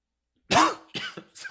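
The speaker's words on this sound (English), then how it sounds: "I've never seen you cough like a rooster before" A single loud, harsh cough bursts out up close, followed by a couple of smaller rasping coughs.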